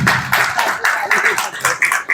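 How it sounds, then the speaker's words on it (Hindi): An audience claps in rhythm at a Hindu devotional gathering, loud steady hand claps in a regular beat with no pause. "ताली बजाते रहो।"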